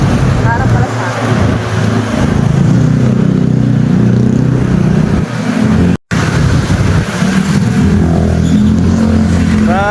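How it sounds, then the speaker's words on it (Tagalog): Steady street traffic near a grocery area in Pansol, with car and motorcycle engines rumbling and revving close by, a dense continuous drone broken once by a brief dropout. "Traffic na naman."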